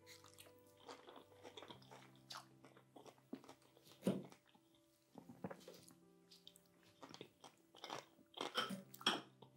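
Salad with bean dressing being chewed up close, with irregular crunchy bites and soft wet squishing sounds repeating for several seconds, nobody talking.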